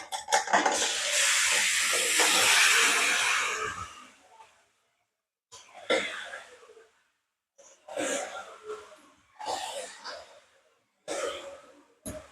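Marinated mutton hits browned onions in a hot pan with a loud, sustained hiss lasting several seconds, then fading, followed by shorter bursts of sizzling and stirring.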